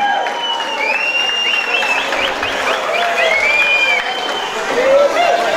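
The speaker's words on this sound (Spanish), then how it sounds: "vamos a recibirlos con un frenético aplauso" A crowd at a dance gathering applauds steadily to welcome the Mi Viejo San Simón group from Toronto, Canada, with sharp whistles and cheers rising over the dense clapping throughout.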